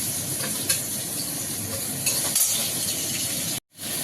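Steady, dense sizzling of prawns frying in hot oil, loud and close, with a few faint stirring clinks and a brief drop to silence near the end.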